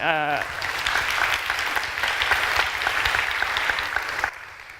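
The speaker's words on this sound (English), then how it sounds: "a round of applause for the DCMN team who have put on an unbelievably good event today" Conference audience gives a round of applause, a dense sustained clapping wash that starts right after a brief spoken tone and runs loud and even for several seconds before cutting down near the end.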